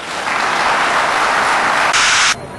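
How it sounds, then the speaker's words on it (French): A crowd at a political rally in Benin applauds, a loud, hissing roar of clapping that swells and holds, then cuts off abruptly near the end. "Je vous demande d'applaudir ça."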